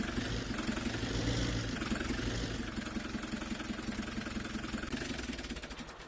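A Fiat 100 horsepower small farm tractor idles in a farming video game, a steady mid-pitched engine hum with a faint knocking pulse that holds for several seconds and then softens slightly.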